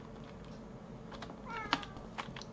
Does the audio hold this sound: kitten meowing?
yes